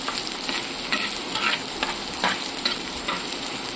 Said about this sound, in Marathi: आपला हे कांदा पण असा तेलात चांगला भाजायला लागलेला आहे